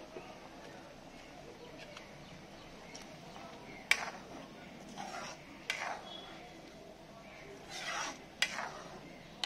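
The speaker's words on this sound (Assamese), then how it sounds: "এতিয়া মই ইয়াৰ ওপৰত কাটি থোৱা পালেং পাতখিনি দি দিম" Chopped spinach leaves being dropped into a pot of cooked daal and stirred in, with faint, scattered scrapes and clinks of a spoon against the pot over a quiet background.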